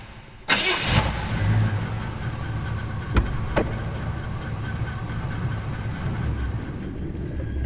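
Car engine in the 1999 PlayStation game Driver starts with a sharp burst and then runs at a steady, loud rumble, with a couple of brief clanks partway through.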